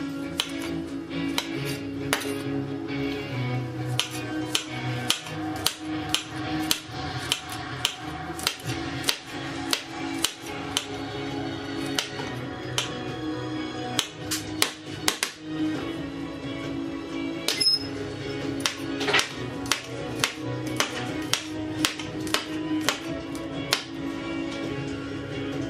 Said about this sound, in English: Try to have my garlic sliced pretty thin.